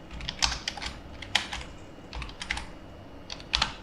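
Typing on a computer keyboard in short bursts of quick key clicks separated by pauses, close and alone while writing a Bash shell script on Linux.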